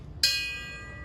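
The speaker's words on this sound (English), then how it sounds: "We toll the bell in remembrance of United Airlines Flight 93 and those who lost their lives." A memorial bell at a September 11 remembrance ceremony, honouring United Airlines Flight 93, strikes once with a sharp metallic onset and a long, slowly fading ringing tone, heard alone and fairly close.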